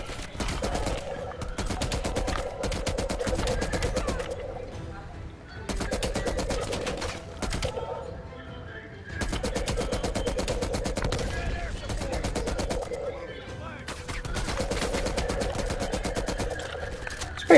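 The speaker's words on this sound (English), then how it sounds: "Okay, an M60." An M60 machine gun rattles out four long, loud bursts of rapid automatic fire in a Cold War jungle warfare shooter, with short pauses between the bursts.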